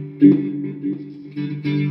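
Electric guitar with a chorus effect from a Line 6 POD HD-500, a few short strummed chords with a shimmering, sustained tone, separated by brief gaps, close and fairly loud with no talking.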